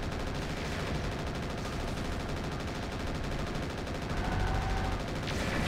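Mech machine guns in Mechwarrior 4 rattle in a rapid continuous stream, close and steady for the whole stretch, growing slightly louder toward the end.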